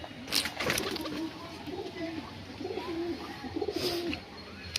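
Fancy pigeons being cared for in cold weather coo in low, repeated rolling phrases close by, with scattered higher chirps and rustling around them.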